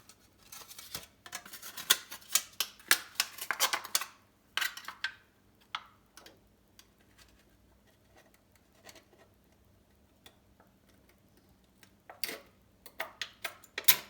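Small cutting snips work through material along a curved radius during a folding bike build, giving a sparse run of crisp clicks and scratchy cuts close by with irregular pauses.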